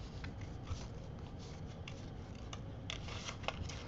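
Scissors snip steadily around shapes in paper for fussy cutting, a string of small close crisp clicks and slicing rasps at an uneven pace over a low background hum.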